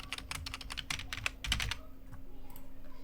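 Fingers typing a password on a computer keyboard, a quick run of close, crisp key clicks that stops partway, leaving faint room noise.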